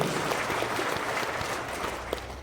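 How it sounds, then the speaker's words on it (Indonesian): A church congregation applauding, dense steady clapping filling the room for a couple of seconds at moderate distance, with no speech over it. "Beri tepuk tangan yang meriah."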